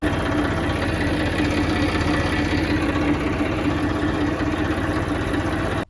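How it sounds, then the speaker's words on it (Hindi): A tractor engine idles on a village road: a steady, loud, even rumble with a faint chugging pulse that carries on unchanged, then cuts off abruptly at the very end. "एक ट्रैक्टर आ गया है"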